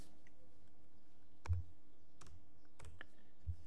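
A few sparse keystrokes on a computer keyboard, about four or five separate close clicks with pauses between, in a quiet room with a faint hum.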